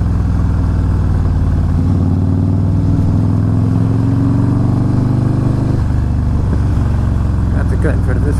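A Harley-Davidson Fat Boy S motorcycle cruises along on a desert ride, its big engine giving a loud, steady low drone with a slight shift in pitch, while wind buffets the rider and a voice talks over it.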